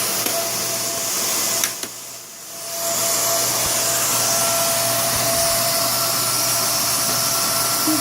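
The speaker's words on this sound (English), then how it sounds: "Here's the vacuum." A Hoover WindTunnel vacuum cleaner runs with a loud, steady motor whine and airy roar. The sound briefly dips and cuts out near the start, then resumes and holds constant at close range.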